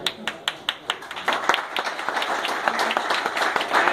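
An audience claps, starting with a few distinct sharp claps and building into dense, steady applause, moderately close.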